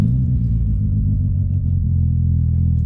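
A VW MK4 Golf GTI engine idles loud and close right after starting, a deep steady rumble with a slightly uneven low throb and a brief clatter, no speech.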